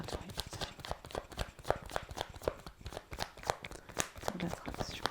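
Tarot cards are shuffled continuously in quick, dense riffling bursts, close and fairly quiet, with soft speech faintly beneath.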